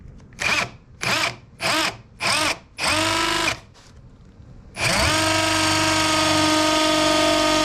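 A power drill whirs in several short bursts, then runs steadily as it bores a pilot hole into wood for a workbench, loud and close.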